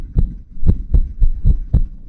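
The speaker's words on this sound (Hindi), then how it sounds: "शंभू की धड़कनें तेज होने लगती हैं।" A heartbeat sound effect in a horror story gives a series of deep, muffled thumps, about six beats at a fairly quick, even pace, heard alone and up close.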